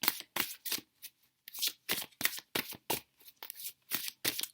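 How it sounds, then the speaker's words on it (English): Tarot cards are shuffled by hand in bursts of crisp riffling and slapping, steady and close, with short pauses between strokes and no talking. "I'm trying to like just shuffle these at the same time."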